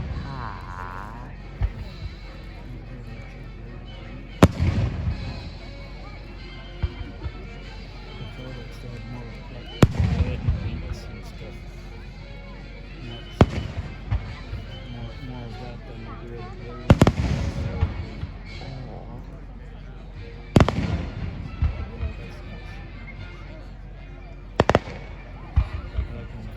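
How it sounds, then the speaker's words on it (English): Independence Day fireworks exploding, with loud booming bursts roughly every four to five seconds and crackling tails, over a constant rumble. A crowd murmurs and people talk between the blasts. "these are some pretty good fireworks"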